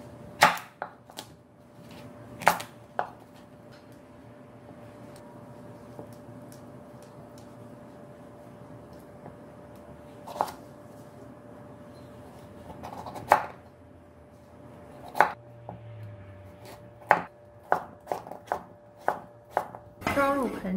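A knife cuts peeled winter melon into chunks on a cutting board, giving sharp irregular thuds and knocks that come sparse at first, then quicken into a denser run of close chops near the end.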